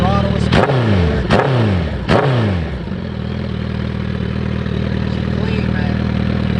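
A custom Suzuki Hayabusa motorcycle engine idles with a steady, low, close rumble; a few sharp clattering knocks come at the start before it settles into an even hum.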